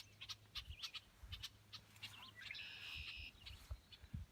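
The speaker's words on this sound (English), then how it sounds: "Blackbirds have their nest in this high grass." Blackbirds call near their nest in high grass, giving faint, scattered chirps and a few short whistled phrases against a quiet outdoor background, with a low hum underneath.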